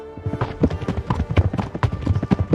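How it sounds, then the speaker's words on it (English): Horse hooves clip-clop loudly and close in Kingdom Come: Deliverance, a steady rhythmic run of hoofbeats over a low background, with no talking. "The sound on the horse is so loud."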